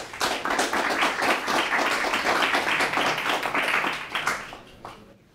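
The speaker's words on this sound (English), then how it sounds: "If you could please welcome him with a round of applause." A crowd at a lecture claps to welcome a speaker onto the stage. The clapping is brisk and close, holds steady for several seconds, then quickly tapers off at the end.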